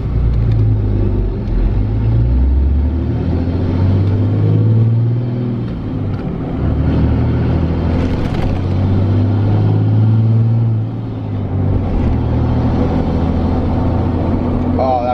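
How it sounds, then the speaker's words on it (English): A 2017 Cummins diesel pickup fitted with a dual disk clutch accelerates and shifts through gears, its deep engine rumble rising and dipping with each change, loud and close as if heard from inside the cab. "We'll give you another shifting sequence here"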